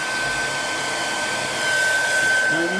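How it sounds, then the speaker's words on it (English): A handheld hair dryer blows steadily and loudly, a continuous broadband whoosh with a faint high whine running through it, the airflow swelling slightly stronger near the end. "And then I just grab my hairdryer, which I've got all plugged in ready."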